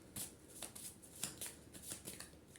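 Tarot oracle cards are shuffled close by in a quick series of soft riffling flutters and snaps, quiet and repeated with no talk over them.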